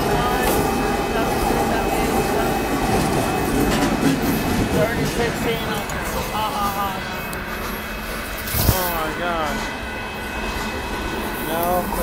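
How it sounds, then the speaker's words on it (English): A northbound Union Pacific mixed freight train rolls past close by with steady wheel rumble and clatter, plus brief squeals from the rails. Voices are faintly heard under the noise. "We got northbound coming in. Here comes this one."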